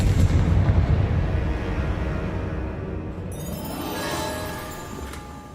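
In the video game Hogwarts Legacy, the Confringo spell sets off a deep, booming explosion. A rumbling blast opens loud and thins into a long fading tail, and a brighter crackle follows near the end.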